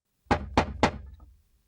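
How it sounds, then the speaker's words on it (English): Three heavy, evenly spaced knocks land on a front door, loud and close with a dull low thump, then fade into silence. "Both of them jumped at the heavy knocks on their front door."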